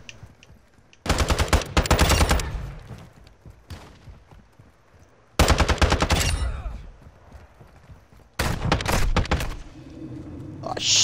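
ISO Hemlock rifle fire in Call of Duty MW DMZ comes as three loud bursts of rapid automatic shots separated by quieter gaps, with faint game sounds between the bursts.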